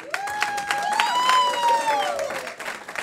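An audience claps and cheers at a stand-up comedy show, a brief burst of applause while the comedian talks loudly over it.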